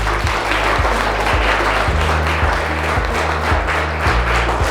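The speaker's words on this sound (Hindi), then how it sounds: "एक बार आप सभी के लिए जोरदार तालियां।" Clapping from an audience at a school drawing competition on environmental conservation, loud and continuous, with a repeating low tonal drone running underneath.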